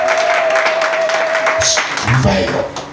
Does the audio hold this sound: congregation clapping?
yes